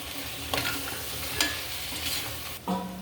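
Chicken being stirred into biryani masala in a pot, giving a few scraping, clattering stirs over a steady low sizzle, close by and fairly quiet, with no talking.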